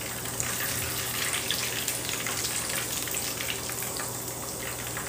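Plantain slices fry gently in hot oil, giving a steady, even sizzle with soft crackles that keeps going throughout at a low, close level.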